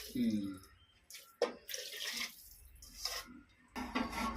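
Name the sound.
water poured into pressure cooker with rice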